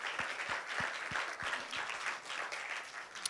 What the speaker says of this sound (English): You deserve an applause